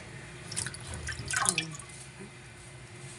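Water from a kitchen faucet splashes onto pechay and beans as they are washed, with close, bright drips and splatters gathered around the middle and a soft watery hiss underneath.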